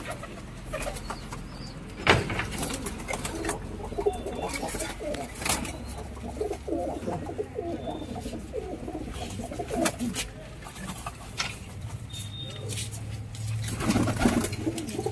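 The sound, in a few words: Giribaz pigeons cooing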